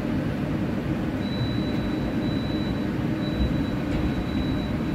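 The Malabar passenger train pulls into Gombong station after midnight, a steady low rumble with a faint thin squeal above it, continuous and moderately distant throughout.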